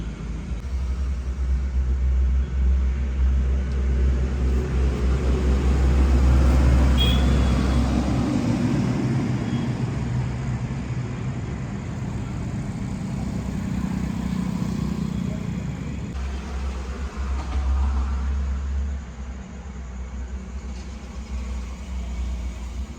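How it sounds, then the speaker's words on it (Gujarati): Engine noise heard while riding a vehicle on a road, a continuous close rumble that swells and eases as the ride goes on, with no talk. "હવે કાંઈ વાહનનો અવાજ વધારે આવે એટલે બહુ કંઈ સંભળાય નહીં"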